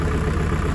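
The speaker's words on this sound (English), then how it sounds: "it's terrible to operate this tractor like that" Tractor engine idling, a steady low rumbling drone with constant vibration, close and even throughout a brief stretch with no talk.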